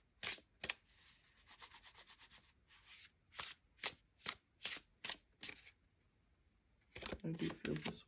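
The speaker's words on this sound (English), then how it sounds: "I am also going to draw an oracle card from this deck." An oracle card deck is shuffled in a run of crisp riffling bursts and card slaps, close and fairly quiet, pausing briefly before a final flurry of shuffling.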